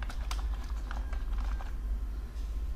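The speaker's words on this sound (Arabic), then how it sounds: "هبدأ ان انا اضغط عادي كأني بكتب على برنامج الوورد، وهكتب مثلا اكسب اونلاين" Keys clatter on a computer keyboard as English words are typed into a word-processing program, with a quick run of separate key presses over steady low background hum and no talking.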